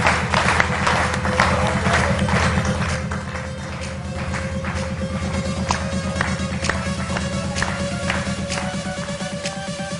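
A seated audience applauds steadily, dense clapping holding at an even level for the whole stretch without pause, no single voice standing out above it.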